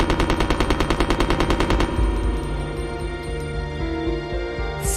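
Steve empties his gun's full magazine in Resident Evil Code Veronica, a loud rapid burst of automatic gunfire for about two seconds, followed by ringing echoes and lower game ambience.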